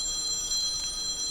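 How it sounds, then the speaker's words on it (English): A mobile phone rings with a robocall, giving a faint, steady electronic ringtone that sounds alone in a quiet room for a short moment. "is that my phone?"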